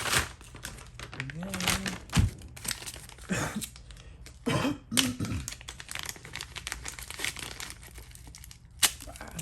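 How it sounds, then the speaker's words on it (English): A sandblasted Toyota 5VZ 3.4 engine part slides back into a plastic bag, giving close, intermittent crinkling and rustling bursts, with someone speaking briefly between them. "I'm going to slide that back in the bag."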